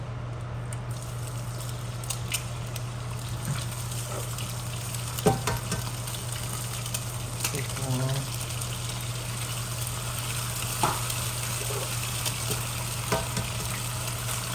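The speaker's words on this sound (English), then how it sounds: "Seasoning is starting to burn a little bit in here, so I'm going to hurry and get these eggs done." Eggs fry steadily in a seasoned cast iron pan whose seasoning is starting to burn, giving a continuous close sizzle with faint crackles and occasional clinks throughout.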